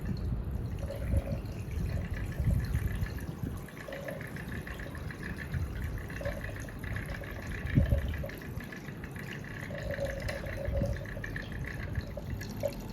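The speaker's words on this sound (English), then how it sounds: "Next, I slowly drip in some sulfuric acid drain cleaner." Sulfuric acid drain cleaner drips slowly into a beaker of pennies, making faint, sparse liquid drips that land irregularly over a quiet background hiss.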